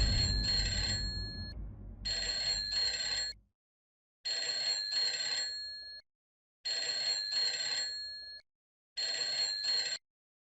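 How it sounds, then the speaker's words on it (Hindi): Telephone ringing indoors with a repeated electronic double-trill ring in five evenly spaced bursts separated by brief silences, the first overlapping a low rumble. "तोरल, मैं तुम्हें फोन करने ही वाली थी।"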